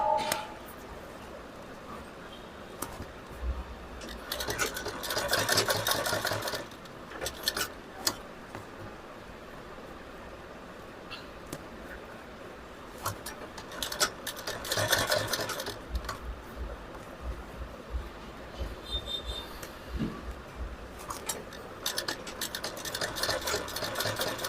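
A sewing machine stitches padding into a princess-cut katori blouse in several separate runs of fast, steady mechanical whirring and ticking. The runs are fairly close but soft, with quieter gaps between them.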